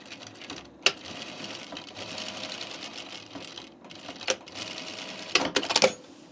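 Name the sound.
sewing machine topstitching a jean jacket seam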